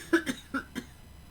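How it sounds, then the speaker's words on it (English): A person coughs several times in quick succession, four short close bursts in just over a second, in a quiet room. "Sorry, I had to cough."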